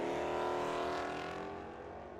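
Drag racing car engines roar loud and close at Firebird Raceway in Phoenix, including a Mustang convertible and a 1970 Challenger, a sustained high-revving drone that fades slightly toward the end.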